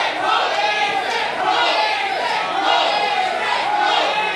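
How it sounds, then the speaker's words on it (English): A wrestling crowd at an Extreme-style I Quit match between Elijah Burke and Jason Dugan chants in loud, rhythmic waves, voices rising and falling together in a dense, close roar that fills the whole stretch. "this crowd is chanting Jason"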